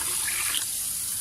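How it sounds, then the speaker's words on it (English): Water pours steadily from a tap or jug into a pizza dough mixture in a restaurant kitchen, a continuous close rushing splash with no talk. "Put water inside."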